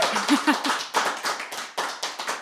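A small studio audience claps for the musical guest, a few close, loud hand claps in an uneven rhythm, with a brief voice sound near the start.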